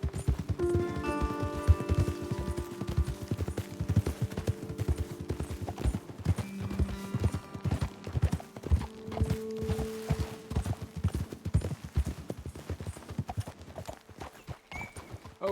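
Horse hooves clip-clop steadily at a riding pace in Red Dead Redemption 2, several horses close by, with a brief whinny and game music sustained underneath throughout.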